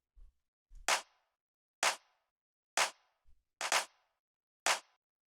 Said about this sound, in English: Next thing we have here is the clap,